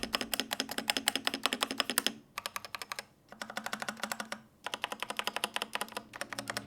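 Mechanical typing on an OG80 keyboard fitted with smooth TTC Pink switches and pre-lubed stabilizers: rapid, close, steady keystroke clacks in bursts, with two brief pauses between runs.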